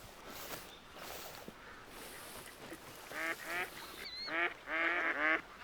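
Mallard ducks in the hunting game theHunter: Call of the Wild quack from a distance, several short, raspy calls in clustered bursts over soft outdoor ambience, growing louder toward the end.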